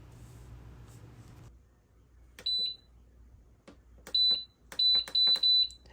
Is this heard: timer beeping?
yes